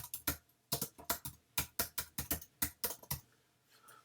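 Fingers type on a computer keyboard in quick bursts of sharp, close clicks with brief pauses between groups, slowing to a few softer taps at the end.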